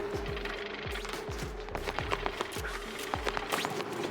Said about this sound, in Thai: งั้นผมก็จะเจาะลงมาเลย